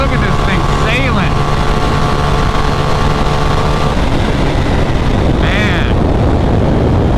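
A 2024 BMW R 1300 GS motorcycle accelerating hard at high speed, engine droning loudly and continuously under heavy wind roar, with a brief spoken word over it.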